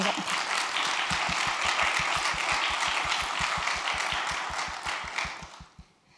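Staff at a youth network event are cheered with audience applause, a broad rush of clapping over a steady low rhythmic thump, which fades and trails off toward the end.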